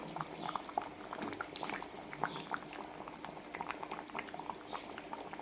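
Telugu-style fish curry (chepala pulusu) bubbling in a pot, with a steady, close, moderately quiet simmer of popping bubbles running throughout, alone and with no talking.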